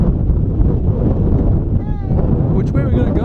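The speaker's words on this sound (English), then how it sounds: "It's a little windy, so you may not be able to hear me." Strong wind buffets the microphone outdoors on a hillside during a climb, a loud continuous rumble with a voice faintly audible beneath it.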